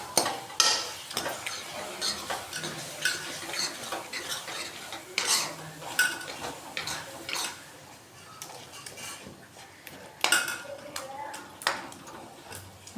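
Bharta being stirred and mashed in a pan, with a spoon scraping and clinking irregularly against the metal, light sizzling underneath and a voice talking now and then.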